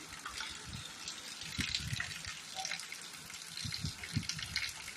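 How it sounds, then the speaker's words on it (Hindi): Heavy rain from a sudden cloudburst in Dhanimangal pours down in a steady, hissing wash of water with splashing gushes, fairly quiet overall and free of talk. "बहुत भारी बारिश हो रहा है यहाँ"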